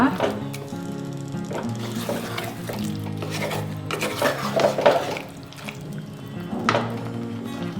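Chicken masala is stirred in a pan to make Mangalore-style chicken sukka, with repeated scraping and clinking of a spoon against metal, close up, and a person talking now and then.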